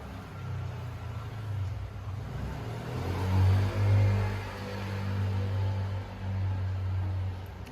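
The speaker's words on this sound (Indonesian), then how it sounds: "Kenapa berisik banyak suara motor? Karena ini di pinggir jalan ya teman-teman." Roadside traffic with passing motorbikes, a steady low engine rumble that swells and fades as vehicles go by, fairly close and continuous, with no talking.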